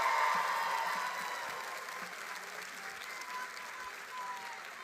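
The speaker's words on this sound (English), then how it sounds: "So will you please join me in a big round of applause for your faculty?" Graduating students and guests applaud their faculty at a university commencement ceremony, a soft, distant wash of clapping that fades gradually, with faint cheering and a murmur of voices mixed in.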